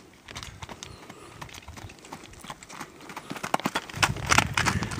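Horse hooves clip-clop at a steady walking pace, growing louder and closer as the rider approaches, with some rustling and footfalls on the ground.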